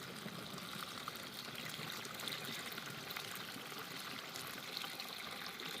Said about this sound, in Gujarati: હાલો તો હવે આપણે પંપમાં પાણી ભરશું